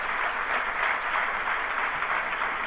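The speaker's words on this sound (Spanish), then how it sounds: "La recibimos con un aplauso" An audience at a conference on women in the Argentine Congress applauds to welcome a panel speaker, steady dense clapping from a seated crowd, moderately loud and continuous without voices.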